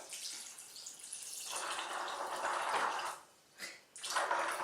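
Water runs steadily from a tap over cashews, pouring for a few seconds, pausing briefly, then flowing again, fairly quiet and close.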